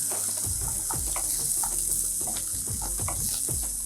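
Coriander leaves sautéing in a hot pan for a coriander garlic chutney, a steady close sizzle broken by repeated stirring scrapes and taps at a brisk, uneven rhythm.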